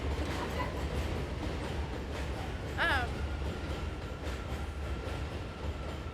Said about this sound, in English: I'll wait till the train goes.